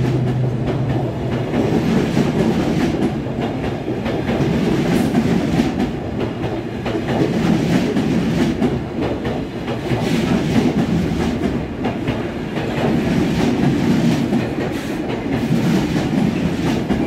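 An engineering train rolls past at Carlisle, bound for Crewe Basford Hall, with a loud, close rumble and steady clickety-clack of wheels over rail joints throughout.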